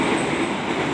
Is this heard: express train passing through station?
yes